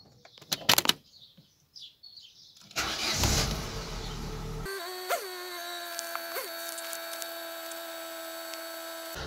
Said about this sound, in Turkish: şimdi gösterge ekranımız olmadan arabamızı çalıştıracağız